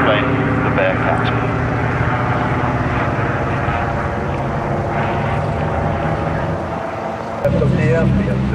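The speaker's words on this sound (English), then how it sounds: "in his favourite aeroplane, the Bearcat" A Grumman F8F Bearcat piston fighter roars steadily through a flying display at Duxford airfield, its loud propeller-engine drone sustained throughout, with a public-address commentator talking over it.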